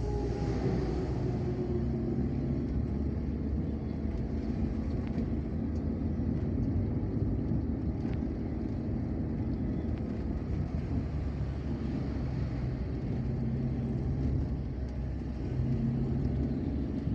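A bus passes on a busy Sumatran highway between Palembang and Jambi, a steady loud rumble of engines and road noise heard from inside a moving vehicle amid heavy traffic.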